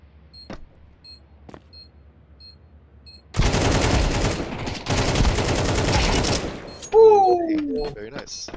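Gunfire in the shooter Counter-Strike 2, two dense bursts of rapid shots after a quiet stretch of faint clicks, followed by a short electronic tone.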